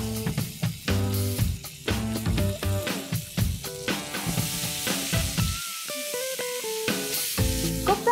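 Onion paste sizzling in melted butter in a pan, with loud close frying hiss and crackle and some bursts of stirring clatter throughout, alongside a tonal background hum.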